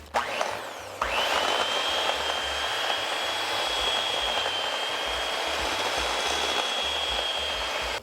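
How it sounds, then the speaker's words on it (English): An electric mixer beats butter for a cranberry crumb topping, starting with a brief stutter and then whirring loudly and steadily for several seconds before cutting off. "Well, the mixer didn't work that well."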